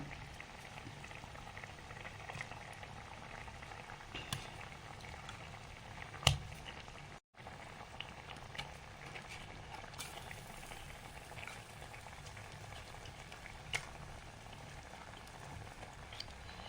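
Fish curry made with kudampuli, ivy gourd and ground coconut simmers in a pot on a wood-fired stove, giving a faint, steady bubbling with occasional soft pops and ticks and no talking.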